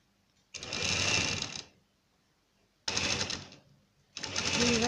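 A sewing machine stitches the hem of a salwar in three close, steady runs of fast whirring needle chatter, each a second or so long and separated by short quiet pauses.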